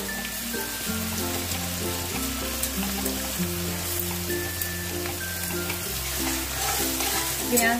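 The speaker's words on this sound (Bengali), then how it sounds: "পেঁয়াজটা একটু ভালো করে ভাজা হবে, লাল কালারটা যতক্ষণ না আসে ততক্ষণ পর্যন্ত পেঁয়াজটাকে ভাজবো" Three chopped onions frying in oil for a chicken curry give a steady, moderate sizzle that runs throughout. Prominent background music plays over the frying, and no one speaks.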